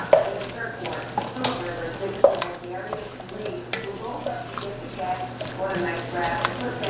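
Thick-cut mushrooms stirred in a pot for Swiss steak give soft wet squishes and utensil scrapes over a low hum, with a voice talking over them.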